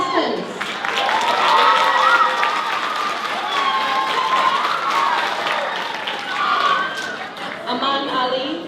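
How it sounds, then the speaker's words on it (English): Audience applause for poetry contestants at a school competition, sustained clapping from a crowd with scattered cheers and voices, swelling early and dipping briefly before a final burst. "let's give another round of applause to our 14 contestants"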